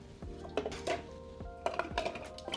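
Cleaned scallop shells clatter and clink into a pot in a home kitchen, several small hard knocks and rattles in quick succession. The sound is close and fairly quiet.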